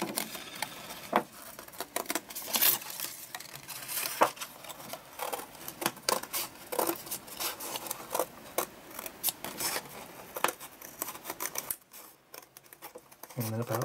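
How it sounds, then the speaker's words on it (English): Scissors snip and cut through paper for an art journal page in a series of short, crisp, close cuts, paused and resumed with light crinkling and handling noises. "give her a quick cut out."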